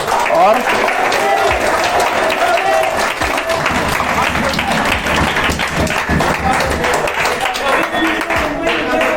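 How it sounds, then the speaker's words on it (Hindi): An audience at a school debate and speech program applauds loudly, a thick continuous wash of clapping mixed with crowd noise and voices throughout. "मैं एक बार फिर सभी के लिए जोरदार तालियों से स्वागत करना चाहूंगा।"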